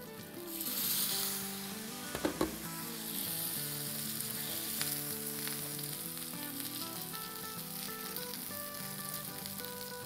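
Roti crisping on a hot tawa griddle gives a steady, close sizzle and fry crackle throughout, with a brief clatter of handling near the start and no talking.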